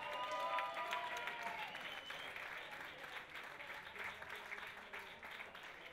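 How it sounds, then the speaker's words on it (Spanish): A concert audience applauds at a band's semifinal set in a Bilbao music contest, with sustained crowd clapping and some cheering. Brief voices mix in early on, and the sound stays fairly distant and steady throughout. "¡Un aplauso!"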